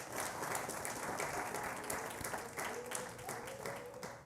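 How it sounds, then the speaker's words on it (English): Distant, fairly quiet applause from an audience honoring students at a live-streamed event, a sustained wash of clapping with a few sharper individual claps standing out. "Let's give those students a round of applause."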